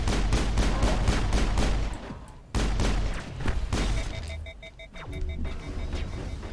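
Rapid repeated cannon fire from the Mako vehicle in Mass Effect, loud and close, in dense volleys with a brief pause, followed by electronic beeping tones as the shooting trails off.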